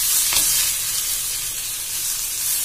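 Onions and peanuts with skins sautéing in a pan for an egg gravy, a steady broadband sizzle with a single stirring scrape near the start, close and continuous with no voices.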